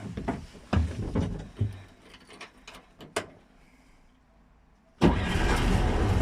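An old car with its original 1200 engine cranks in several uneven bursts, falls quiet, then catches and starts abruptly, settling into a loud, steady run close by.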